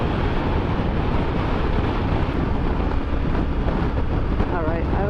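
Heavy wind buffets a rider on a Triumph Tiger 900 GT motorcycle cruising an interstate through desert country, a loud continuous rushing roar with faint engine hum underneath and no talking.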